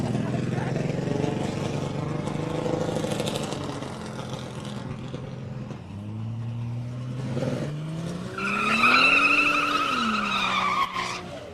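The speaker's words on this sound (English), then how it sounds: "EB Falcon here getting a nice burn on the tyres" An EB Falcon does a burnout at a test-and-tune drag event, its engine revving hard as the tyres squeal in long rising and falling howls, with crowd chatter underneath.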